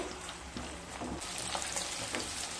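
Paneer cubes sizzle steadily in hot oil in a pan while they fry to a light brown, with a dense, even crackle and faint stirring taps throughout.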